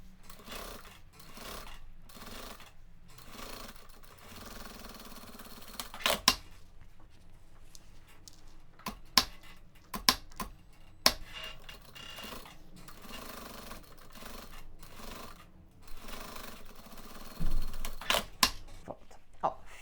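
Domestic sewing machine running in short bursts of stitching through fabric for a cube-shaped toiletry bag with elastic and topstitched pockets, a close, steady mechanical whir broken by pauses and light clicks, no talk.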